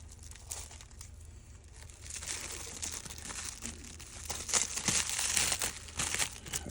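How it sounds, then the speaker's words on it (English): A new ADF motor for an HP M527 printer being unwrapped from its packaging: close crinkling and rustling of plastic wrap, rising into louder crackling bursts in the second half. "Go ahead and unwrap it."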